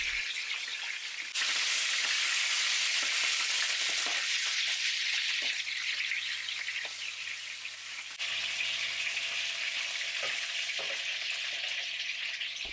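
Chicken pieces brown in a frying pan for chicken in tomato sauce. A loud, close, continuous sizzle with a crackly, rain-like hiss jumps up sharply early on and dips briefly partway through, with no voices.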